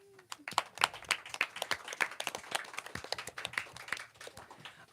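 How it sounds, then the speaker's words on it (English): Applause from a school audience at an elementary-school live show, scattered claps building into a lively, irregular patter that stays fairly close and steady for several seconds. "Let's clap it up"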